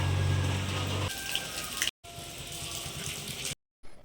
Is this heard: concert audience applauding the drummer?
no